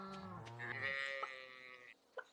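Cows mooing in a farming video game, a long drawn-out moo that rises in pitch and blends into a second, higher moo, followed by a couple of faint clicks.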